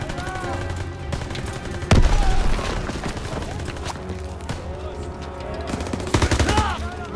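Call of Duty: WWII battle sounds: a grenade explosion lands as a heavy boom partway through, amid rapid, continuous rifle and machine-gun fire, with loud bursts near the end.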